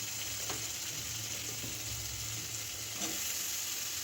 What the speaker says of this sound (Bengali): আলুটা আগে আলাদা করে একটু ভেজে নিই